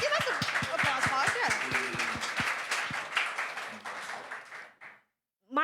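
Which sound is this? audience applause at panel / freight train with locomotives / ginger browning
audience applause at panel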